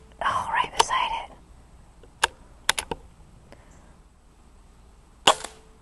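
A Benjamin Marauder .22 air rifle fires at field targets, several sharp, short cracks spaced apart, some in quick pairs, after soft whispered talk at the start.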